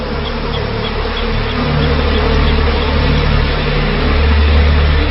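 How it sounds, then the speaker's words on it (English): Africanized killer bees from a nest buzz in a steady, dense drone with a low engine-like rumble underneath, continuous and moderately loud throughout with no voices. "if you get in the way of a nest of Africanized bees"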